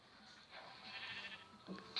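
A sheep in the Minecraft video game gives a short, wavering bleat lasting most of two seconds, clear and moderately loud against a quiet background.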